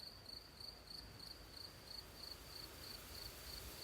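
Faint, steady chirping of crickets on a calm night in a forest beside quietly flowing water, a thin continuous trill with regular pulses over soft background hiss.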